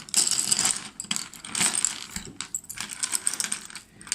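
A handful of colored pencils shuffled and mixed together gives loud, close clattering and rattling wooden clicks in uneven bursts with short gaps.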